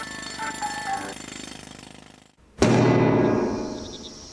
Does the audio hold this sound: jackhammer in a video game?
yes